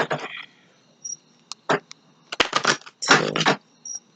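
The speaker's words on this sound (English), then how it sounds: "Okay, 3 more shuffles." Tarot cards being shuffled by hand, heard as short crisp riffling bursts and flicks, close and dry, separated by brief silences.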